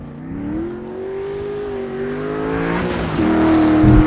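An engine-swapped car running a Holley Terminator X accelerates hard, its loud revving engine note climbing steadily in pitch before surging even higher near the end, heard close and alone.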